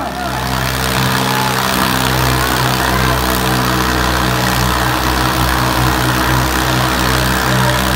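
A tractor engine runs at a tractor pulling event, a loud, steady, heavy low drone with strong harmonic throb that holds constantly, voices talking over it.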